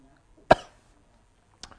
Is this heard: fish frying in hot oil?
no